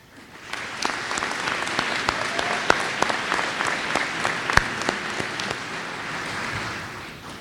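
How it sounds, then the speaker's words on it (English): A crowd at a community college commencement claps for the graduates, dense sustained applause that swells quickly and then fades near the end. "Let us now applaud these graduates."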